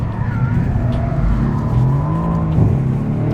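Mercedes-AMG C63 driven hard on a circuit, its engine roaring loud and close under sustained load, with shifting pitch and a brief tyre squeal or rev change near the end, no talk.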